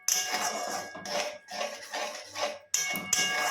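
Spiced masala being stirred and fried in a pan for a wedding-style katla kalia fish curry, with a metal spoon scraping and clattering against the pan in irregular close bursts and brief pauses.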